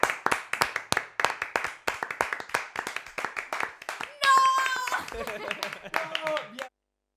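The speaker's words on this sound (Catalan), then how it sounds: "Un aplaudiment ben fort." Studio audience on the final episode of a Catalan TV show claps in brisk, uneven bursts for about four seconds, then the clapping thins as voices, whistles and cheers rise and fade.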